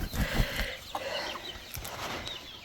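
Chickens in a cage, Marans, Wyandottes and Silkies, cluck softly and continuously at close range, with a few sharper calls over a busy, steady background.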